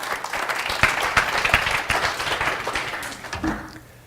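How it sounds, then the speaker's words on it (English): A live audience applauds as a volunteer comes up, a steady burst of clapping that fades out toward the end. "Just give him a nice round of applause."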